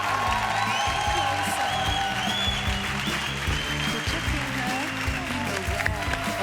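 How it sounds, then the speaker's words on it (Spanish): Studio audience applause for television show guests, dense clapping mixed under loud music with sustained tones, continuous and close throughout. "Un fuerte aplauso para Pilar Castro,"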